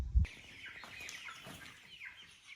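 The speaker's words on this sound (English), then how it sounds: "Now let's get some chickens in here." Soft chicken clucks and chirps come through at close range after a brief thump, quiet and scattered over a light background hiss.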